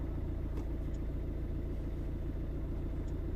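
A Volvo V50 engine idles after an immobiliser fault, a steady low rumble that holds even and unbroken throughout, close by and with no talk.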